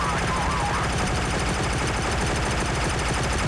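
Gunfire from the Wii shooting game Heavy Fire: Special Operations plays as steady, rapid machine-gun bursts under a constant wash of game noise.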